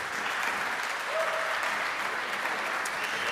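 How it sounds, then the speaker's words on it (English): Audience applause after a live jazz ensemble set at St. Paul's Chapel in New York City, a steady even clapping from a large crowd that holds for the whole stretch without a break. "Can we get another round of applause for this tremendous ensemble?"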